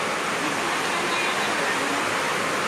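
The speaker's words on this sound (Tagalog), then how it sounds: "medyo lumakas po yung buhos ng ulan sa labas" Heavy rain pours outside in a dense, steady hiss that stays loud and unbroken throughout, with no distinct drops or pauses.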